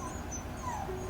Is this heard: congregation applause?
no